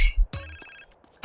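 A telephone rings in GTA San Andreas, with a short electronic ring tone in the middle of the clip, following brief low thumps and cut off by a loud noisy burst at the end.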